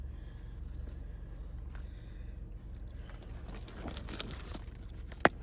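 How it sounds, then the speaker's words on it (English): Keys jangle as a 2023 Subaru Forester key is worked out of its fob, small metallic rattles close by over a low idle hum, ending in a sharp click. "I'll show you that if I can get the key out of the fob with one hand."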